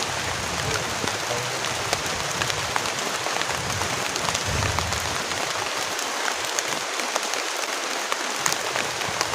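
Heavy rain pours down steadily at a campsite, a dense, continuous broadband hiss of drops drumming on surfaces, loud and close throughout with no voices.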